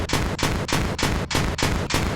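Repeated gunfire bursts from an RPG rocket launcher in the Indian Bike Driving 3D mobile game, loud and dense, about seven closely spaced blasts in a steady rhythm with no voices.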